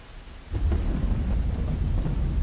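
A thunderstorm with rain: a low, heavy rumble of thunder swells in after a quiet opening and rolls on loudly over a steady rain hiss.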